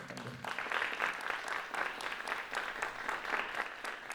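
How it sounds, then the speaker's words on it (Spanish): An audience at a talk on exhibiting cinema applauds, a moderate, steady patter of many hands clapping at mid distance, with a brief voice at the very start. "Un aplauso para él."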